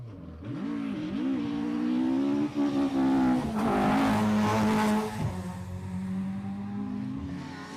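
A rally car spins on a stage of the Cork 20 International Rally: the engine revs hard and wavers as the car slides round, staying loud and close, then settles into a steadier drone.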